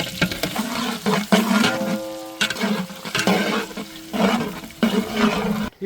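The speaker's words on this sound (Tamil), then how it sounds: "இப்போ வெங்காயம் அந்த இடத்துல வதங்கிட்டு இருக்காரு நம்ம மாஸ்டர்" Thinly sliced large onions sauté in a pan for biryani, with sizzling, stirring bursts that swell and fade in waves, fairly close, with no speech.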